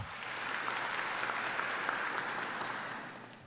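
Strong, sustained applause from an audience at a youth parliament ceremony in Peru's Congress, a dense steady clatter of many hands lasting several seconds before fading slightly at the end.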